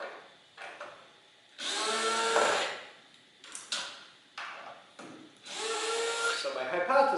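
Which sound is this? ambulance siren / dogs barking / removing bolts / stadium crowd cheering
removing bolts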